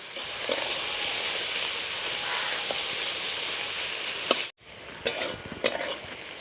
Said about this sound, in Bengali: সব একসাথে হালকা করে একটু ভেজে নেবো